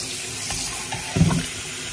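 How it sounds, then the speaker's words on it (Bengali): Spinach leaves rubbed and rinsed under a running kitchen tap, a steady close water stream with a brief louder splash of handling near the middle; no talking. "জলে খুব ভালো করে একটু কচলে নিলেই সুন্দর ধোয়া হয়ে যায়"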